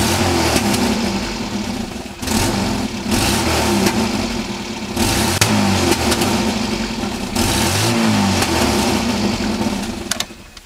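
A Toyota KE35 engine with a poor manifold gasket and suspect ignition leads revs up and down roughly in repeated surges, loud and close, with an uneven, stumbling note and no talking.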